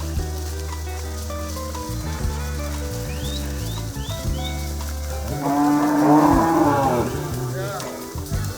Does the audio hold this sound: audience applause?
no